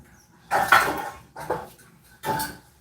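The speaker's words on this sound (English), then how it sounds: "let me grab a pan" A metal pan is pulled out in a home kitchen, making three separate clattering bursts of pots and pans knocking together at close range, with short quiet gaps between them.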